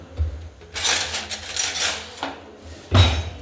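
A spoon clinks and scrapes against dishes at a home meal, a few close, bright metallic knocks and rattles, the loudest near the end, with no talk.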